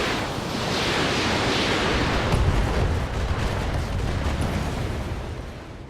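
Full weapons volley from a BattleTech 'Mech in the video game, a dense, continuous roar of broadband noise with a heavier rumbling burst midway, loud and sustained with no talking.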